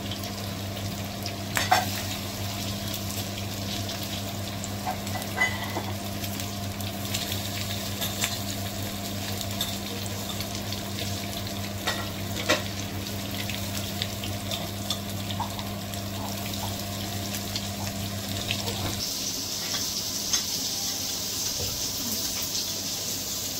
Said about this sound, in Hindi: तेका फ्राय करपा जाय नुस्तें, मातशें फ्राय करपाचें, चड करप ना